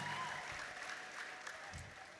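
A church congregation breaks into clapping and ululation together, with the applause spread across the whole stretch and fairly faint. Shrill trilling cries rise over it near the end.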